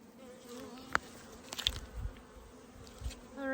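Honeybees buzz in and out around hives at a bee yard in spring, their wraps newly removed after winter. A steady close insect drone carries a few louder passes as single bees fly near, with no talking.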